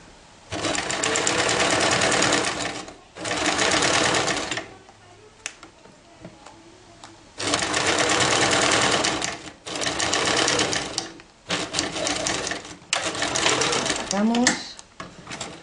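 A sewing machine stitches a coin purse in several loud bursts of rapid, steady whirring, separated by quiet pauses with handling sounds, and a voice speaks in the gaps.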